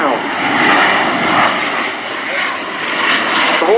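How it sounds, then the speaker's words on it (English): Swiss Air Force F/A-18C Hornet jet accelerating out of a slow pass at an air display, a loud, steady broadband engine roar that swells and eases slightly, with a voice talking over it. "as Vincent comes in for his slow pass, he'll be accelerating out of this into a Cuban 8 manoeuvre"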